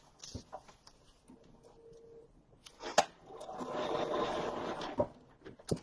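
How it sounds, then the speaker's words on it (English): A sewing machine stitches fabric for foundation paper piecing, a short burst of close mechanical whirring lasting about two seconds, preceded by scattered clicks and handling noises. "take it to my machine and sew"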